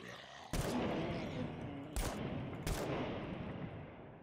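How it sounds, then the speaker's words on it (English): Gunfire in the video game Scum, fired inside an underground parking garage: three loud separate shots with long reverberant echo tails ringing between them over a steady noisy background. "it sounds a bit different when you're in underground in a parking garage"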